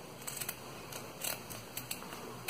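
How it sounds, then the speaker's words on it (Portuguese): Scissors snip off the ends of a ribbon bow for a double boutique hair bow made from No. 5 ribbon, giving several quiet, crisp cuts spaced irregularly and close by, with no talking. "Aqui a gente vai cortar as pontinhas."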